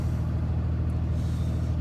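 A 700hp Cummins diesel truck engine runs with a steady, deep rumble that stays constant and fairly loud throughout.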